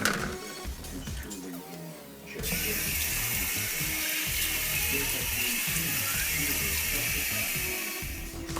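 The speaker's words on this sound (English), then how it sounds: "What we're going to do is drain off the water and rinse the chickpeas slightly." Water drains from a pot of soaked, uncooked chickpeas and runs steadily from a kitchen tap as they are rinsed. The sound is a continuous close splashing rush that starts after a quieter opening and holds to the end.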